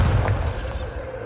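A Bombarda spell explosion in the Hogwarts Legacy video game bursts with a loud, deep boom that fades into a rumbling low tail over about a second, with no voices.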